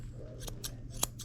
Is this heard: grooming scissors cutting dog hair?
yes